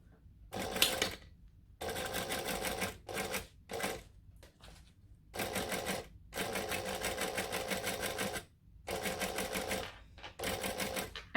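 Sewing machine top stitching vinyl for a bowler bag, running in a series of fast mechanical bursts of a second or two each, separated by short pauses, close and fairly loud with no talk.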